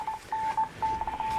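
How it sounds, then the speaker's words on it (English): A ham radio plays a repeater identifier signal, a faint series of short and long steady beeps in an on-off pattern like Morse code, heard over a quiet room background inside a van. "that's my ham radio going off with an identifier signal"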